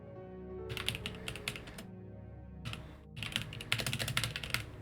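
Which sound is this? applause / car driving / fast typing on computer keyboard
fast typing on computer keyboard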